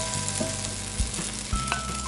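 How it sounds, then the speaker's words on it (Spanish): A teaspoon of butter hits a hot pan just used for browning chicken, sizzling loudly and steadily up close, with a couple of brief knocks from the pan or utensil. "A continuación agregamos una cucharadita de mantequilla"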